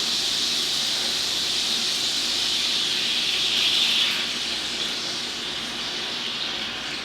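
Syrup poured into a hot pan sizzles with a steady bright hiss that swells briefly midway, then settles and continues at a slightly lower level, close and alone.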